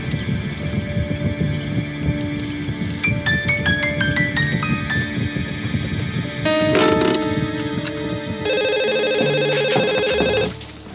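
A telephone rings with electronic ringtone bursts and tonal beeping patterns over background noise, growing louder and more insistent in the last few seconds.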